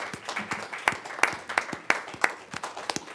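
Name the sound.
applause for the Employee of the Year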